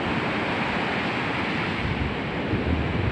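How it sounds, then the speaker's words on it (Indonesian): Ocean surf washes over feet on a sandy beach at Pantai Dlodo Rejosari, a continuous broadband rush of water and wind, loud and close throughout with no voices. "Saya berjalan terus ke arah timur sambil menikmati guyuran ombak ya yang mengenai kaki saya."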